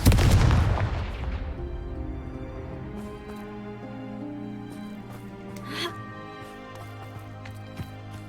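A Confringo blast spell in the Hogwarts Legacy video game erupts with a loud, deep boom that rumbles and fades over a couple of seconds, followed by faint crackling debris and small impacts.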